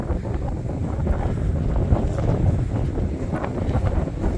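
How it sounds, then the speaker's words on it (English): Gusty wind buffets the microphone outdoors in a cemetery near Lexington, Illinois, a loud low rumbling roar that swells and eases without a break, with no one talking. "for 61 degrees today, it's awful breezy."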